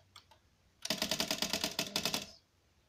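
A typewriter being worked without paper or ink gives a fast burst of about a dozen sharp, rhythmic key strikes, loud and close, after a few faint taps, with no voices.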